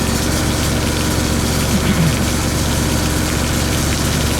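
The engine of a trailer-mounted hot and cold sewer jetter runs steadily at close range, a continuous loud droning rumble with no letup.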